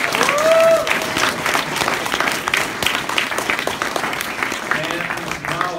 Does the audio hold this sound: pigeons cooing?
no